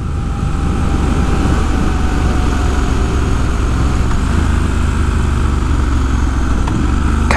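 A Triumph Scrambler 1200XE being ridden, its engine giving a steady, loud, continuous drone under heavy wind rush from start to finish.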